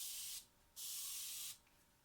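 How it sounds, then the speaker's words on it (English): Rubbing alcohol sprayed onto freshly poured cold process soap: two quick, close hissing bursts from a spray bottle, the second one longer, with a brief quiet gap between them. "now I'm spraying it with my rubbing alcohol."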